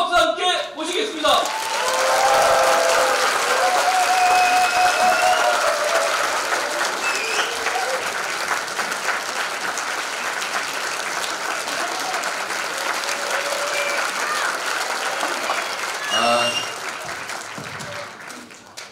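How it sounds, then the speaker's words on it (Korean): Sustained audience applause welcoming the mayor of Seongnam on stage at a Nowon district presidential-candidate lecture event, loud and steady for most of the clip, fading near the end as a voice briefly speaks. "뜨거운 박수와 함께 모시겠습니다"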